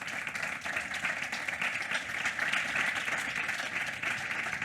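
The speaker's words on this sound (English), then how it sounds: "please an applause for the panelists" An audience at a music licensing session claps for a panel of speakers, giving a steady, full roomful of applause that holds at a constant strength for several seconds.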